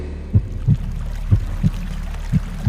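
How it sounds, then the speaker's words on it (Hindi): Heartbeat sound effect from a Hindi audio drama: deep, muffled lub-dub thumps repeating at a steady, moderate pace over a low, constant background hum, with no voices. "ड्रैकुला, हमने अपने दिल की धड़कनों को गिलगमेश की धड़कन से तो मिला लिया"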